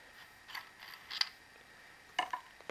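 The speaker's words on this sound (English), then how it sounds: "You squeeze these 2 red things and turn counterclockwise." The nut on a Hakko FR-300 desoldering tool being unscrewed counterclockwise with a removal tool: faint scattered metallic clicks and scrapes against a quiet background hiss.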